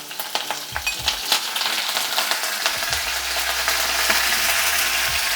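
Curry leaves, green chillies and cumin crackle and sizzle in hot oil, a dense steady frying hiss with sharp pops and spits scattered throughout, close and loud, with no voices.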